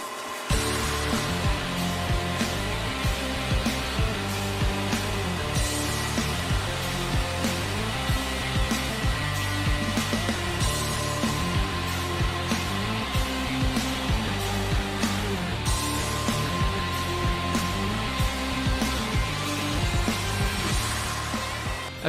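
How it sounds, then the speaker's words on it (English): A robotic buffing machine polishes welds on fire extinguishers using abrasive Norton wheels with rouge compound, producing a loud, continuous whirring grind that holds steady and evenly throughout, close up with no voices. "The cut process utilized the abrasive grains embedded in the Norton fab wheels to remove the color from the welds."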